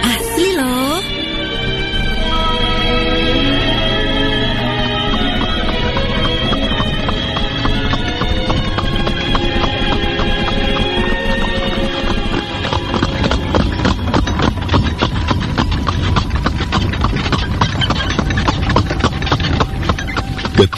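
Horse-drawn carriage hooves clip-clop at a steady pace as a radio drama sound effect, running continuously under a dense backdrop of music and voices.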